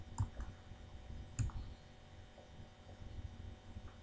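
Computer keyboard keys pressed while entering salary formulas in a spreadsheet, a few sparse clicks and taps spaced irregularly, close and moderately quiet over a faint background.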